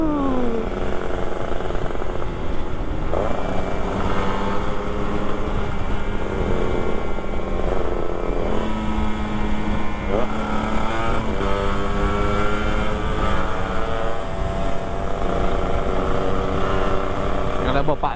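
Two-stroke motorcycles ridden hard at night on a group ride, engines revving up and down with rising and falling buzzy tones as they pass close by, continuous and loud throughout.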